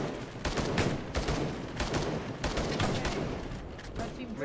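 Sustained gunfire into building windows in Arma 3, dense overlapping shots and bursts with distant-sounding reports, continuous across the span.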